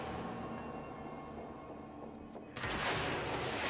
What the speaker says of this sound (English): I heard the explosion, but I didn't see it on time.